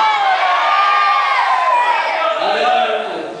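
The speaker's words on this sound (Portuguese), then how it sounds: "Só quem vai dar um jeito, dá um grito de glória aí para estourar esse lugar." A church congregation shouts out glory together in a loud, sustained crowd roar of cheers and whoops that swells and holds for a few seconds before easing off slightly at the end.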